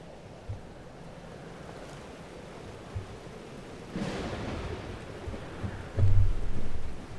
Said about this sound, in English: Weather's worse than I remember it. Storm followed me.